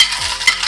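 Ginger sizzles in hot oil with mustard seeds for a bitter gourd pickle, stirred in a pan. A brief, close crackle comes with a soft scrape of stirring and no voices.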